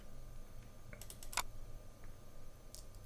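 A computer mouse clicking, a few faint, sharp clicks including one quick double click in a quiet room, with no talking.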